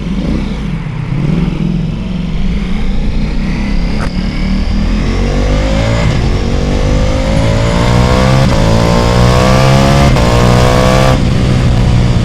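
A Ducati Pikes Peak motorcycle engine with a Stage 1 upgrade revs loud and close, climbing steadily in pitch through the rev range in one long, continuous pull.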